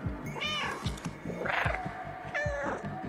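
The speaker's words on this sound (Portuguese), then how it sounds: "Isso, mia que nem doido." Cat meowing repeatedly in the PlayStation 5 game Stray, several drawn-out meows with rising and falling pitch over a steady thudding background rhythm.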